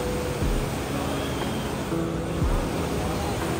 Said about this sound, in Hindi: आज पानी का भाव देखिए आप कितना तेज है